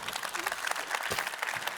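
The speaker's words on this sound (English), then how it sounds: "Give me a round of applause." An audience at a talk on personal branding breaks into brief applause, a soft, dense patter of clapping lasting under two seconds.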